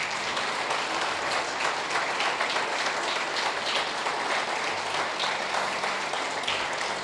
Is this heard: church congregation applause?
yes